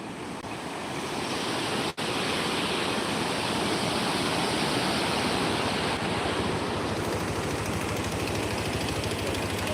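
Godavari river floodwater pours over farm fields, a loud, continuous broadband rush and roar that holds steady throughout, with a faint low engine-like hum underneath.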